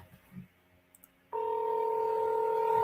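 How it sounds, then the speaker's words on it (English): A telephone ring tone sounds on a live speakerphone call, a steady two-tone electronic buzz that starts abruptly after a quiet stretch and holds on loudly through the rest. "Can y'all hear that ringing?"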